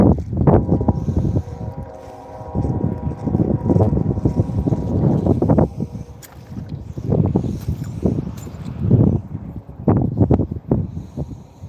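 Strong wind buffeting the microphone on a bass-fishing boat, loud uneven gusts that rise and fall in surges, with water and hull noise mixed underneath.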